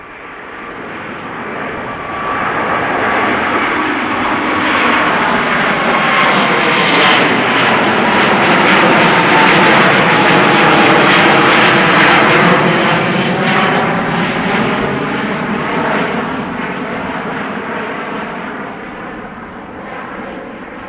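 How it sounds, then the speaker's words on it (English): A five-year-old Singapore Airlines Airbus A350-900 jet departs Schiphol, its engine roar swelling steadily to a loud, broad rumble and then slowly fading as it climbs away, heard alone without voices. "Singapore Airlines outbound Singapore A350-900"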